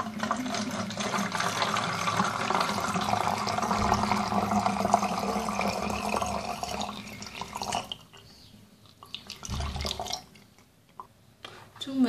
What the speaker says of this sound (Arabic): إذا سنضع فيه مقدار 3 كؤوس من الماء الدافئ